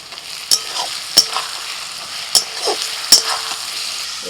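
Garlic fries in a wok over a wood fire. A steady crackling sizzle runs underneath, and about four sharp spatula scrapes and knocks land at irregular intervals, close and fairly loud.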